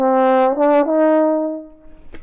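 A solo trombone plays an ominous melodic phrase from Holst's The Planets, a few broad sustained notes with a brief dip between them, close and loud, fading at the end.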